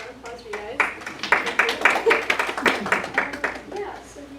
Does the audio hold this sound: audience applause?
yes